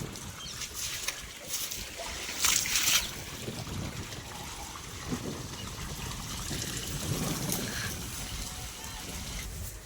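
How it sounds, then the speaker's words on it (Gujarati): Water sloshing and trickling steadily as a water tank is cleaned, with splashes and scrubbing noises close by throughout, and a brief louder gush partway through. "પાણીનો વજ સાફ કરી રહ્યા છે."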